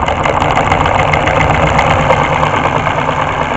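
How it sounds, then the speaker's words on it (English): A homemade four-cylinder solenoid engine with a Lego output shaft runs sped up, giving a loud, close, fast and even mechanical clatter with a steady buzzing drone and no talk. "Sounds like a sewing machine motor."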